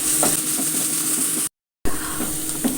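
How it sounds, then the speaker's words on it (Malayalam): Finely chopped green chillies sautéing in a pan, a steady, close hiss of sizzling with small stirring knocks, briefly cut to silence before the sizzle resumes. "ചെറുതായി പൊടിയായി അരിഞ്ഞത് ഇട്ട് കൊടുക്കാം നല്ലോണം ഒന്ന് വഴച്ചെടുക്കാം"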